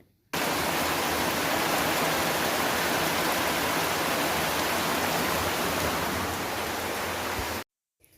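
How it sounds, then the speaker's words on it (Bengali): A heavy monsoon-style downpour roars as a dense, steady hiss of rain, loud and unbroken for about seven seconds before cutting off abruptly. "পুরো মুসলধারাতে বৃষ্টি হচ্ছে এই দেখুন আপনাদের দেখিয়েও দিলাম যাতে আপনারা বিশ্বাস করেন কিভাবে বৃষ্টি হচ্ছে"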